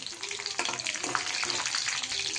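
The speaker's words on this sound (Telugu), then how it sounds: "ఇందులో ఆవాలు, జీలకర్ర, పచ్చిమిర్చి వేసుకోవాలి. బాగా వేగనివ్వాలి." Mustard seeds, cumin and green chillies fry in hot oil with a bright, crackling sizzle and scattered pops, close and fairly loud, without speech.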